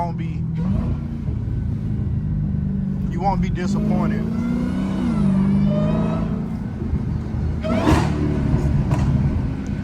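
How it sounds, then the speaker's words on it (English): A Hellcat's engine revs and rumbles on downtown city streets, its deep note rising and falling as it echoes off the surrounding walls, while someone talks over it close by. "The car sound good downtown though. They been echoing off all the walls."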